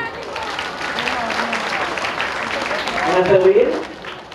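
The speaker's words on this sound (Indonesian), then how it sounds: "Baik, terima kasih dulu. Tepuk tangan dulu." A class applauding during a character-building session, a moderate, even patter of clapping with voices rising over it toward the end.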